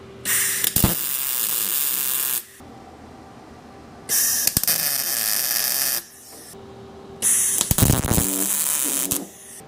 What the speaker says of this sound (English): We're gonna weld our pie cuts together so we don't have to rely on tape.